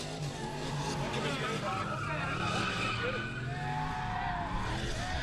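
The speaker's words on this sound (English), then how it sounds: "We're doing burnouts to match your outfit." A car doing a burnout at a street event on a quick street day in Kooralbyn Valley, its engine roaring steadily with constant tire noise, heard from some distance under loud crowd and commentary chatter throughout.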